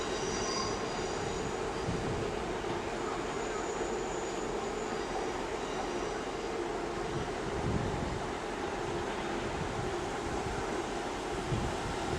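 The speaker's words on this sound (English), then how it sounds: "And also we have coming in an LNER Azuma service from St Neots." An LNER Azuma passenger train pulls into Leeds station with a steady rumbling hum and thin, high-pitched wheel squeals over it, loud and continuous at close range.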